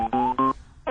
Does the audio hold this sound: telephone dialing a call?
yes